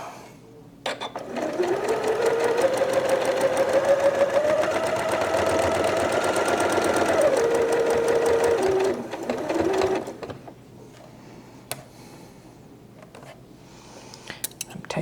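A sewing machine stitches a quilt block in one loud, fast, steady whirring run for about eight seconds, then stops, leaving quieter handling clicks and pin removal.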